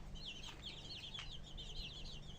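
Bantam chickens cluck and chirp in a few short, high bursts, fairly faint, over a low steady background rumble in a yard.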